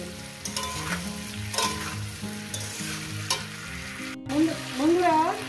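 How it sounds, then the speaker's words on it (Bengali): Cauliflower and potato pieces sizzle steadily in a pan, with periodic stirring scrapes, while soft background music with melodic tones plays throughout. "আমি ফুলকপি আর আলুটাকে কীভাবে ভেজে নিচ্ছি"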